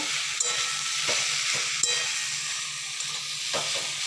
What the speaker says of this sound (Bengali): এবার সয়াবিনগুলোকে ভালো করে পেঁয়াজের সঙ্গে হালকা হালকা ভেজে নিতে হবে